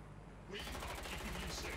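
Automatic gunfire in Watch Dogs: Legion breaks out suddenly and continues in a rapid, even burst at moderate level.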